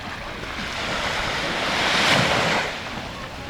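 Sea waves wash onto the shore at sunset, a steady surf roar that swells to a louder break near the middle and then eases back, with wind buffeting the microphone throughout.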